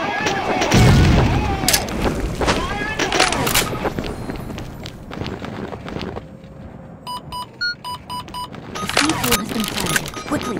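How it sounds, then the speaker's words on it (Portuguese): A grenade detonates in a video game shooter, booming amid a burst of gunfire near the start, followed by scattered shots, electronic beeps and chimes, with voices talking over the action. "Quando eu estiver a chegar ali vai cair uma granada, queres ver?"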